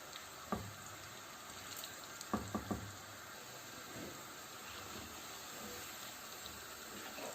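Gobi koftas fry in a pan over medium heat, a faint, steady oily sizzle with a few soft clicks and taps from a utensil.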